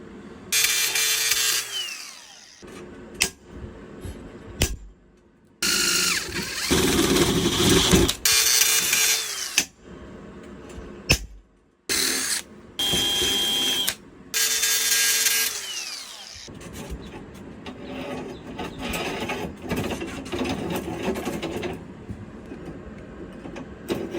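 A small drill bit bores a series of holes in metal for a rolling cart frame, with repeated loud whining bursts of drilling separated by brief pauses and quieter handling noise.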